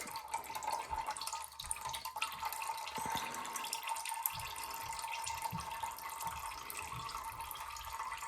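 Melted beeswax trickles and drips through a filter, a faint steady liquid pour with scattered soft drips and small splashes.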